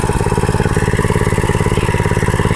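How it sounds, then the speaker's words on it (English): A Predator 212cc 6.5hp Harbor Freight small engine running loud and close, a steady fast idle thrum with even pulsing throughout. "Seems to be a very reliable engine."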